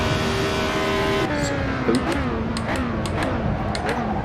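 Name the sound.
race car driving in Assetto Corsa video game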